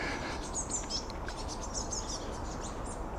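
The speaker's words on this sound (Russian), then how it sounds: "Прям заливаются птицы." Songbirds chirp and trill in quick bursts over steady outdoor background noise, the calls fairly close but not loud, in a residential Moscow neighbourhood of low-rise houses.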